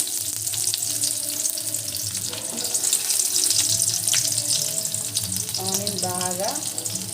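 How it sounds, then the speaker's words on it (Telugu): Onions frying in hot oil in a home kitchen, a steady, close, continuous sizzle and hiss throughout. "ఆయిల్ అయితే హీట్ ఎక్కింది. ఆనియన్ వేసుకోవాలి ఫస్ట్."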